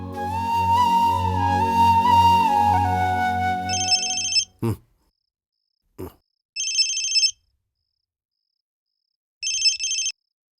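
A phone ringtone sounds in three short bursts of electronic trilling, separated by silences, after a stretch of tonal music; a couple of brief thumps fall between the rings.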